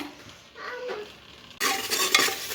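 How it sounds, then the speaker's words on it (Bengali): Mung dal frying in a pan, soft stirring scrapes at first, then a louder crackling sizzle bursting in for the last second, close by. "মুগ ডালটা কিন্তু একটু ভেজে নিচ্ছে"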